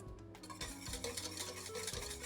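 Cornflour mixture being whisked gently as it boils in a pan, with steady scraping and stirring strokes and light clinks of the whisk against the metal, close and continuous with no talking.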